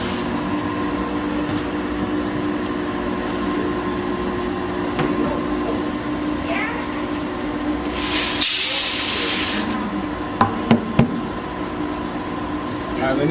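Toper TKM SX 15 coffee roaster runs with air flowing through to carry chaff and dust to a silo collector, a steady mechanical hum and airy rush with a brief louder hiss burst and a few clicks; people talk nearby.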